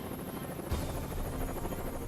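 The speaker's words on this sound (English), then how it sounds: "Marine Corps helicopter is always standing by." A Marine Corps squadron helicopter, Marine One, gives a steady, loud rotor and turbine drone with no voices throughout.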